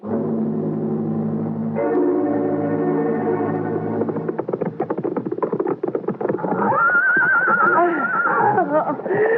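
A horse whinnies loudly in a 1980 radio mystery drama while being ridden, a long rising and falling neigh following hoofbeats and other rustling sounds, with no talk over it.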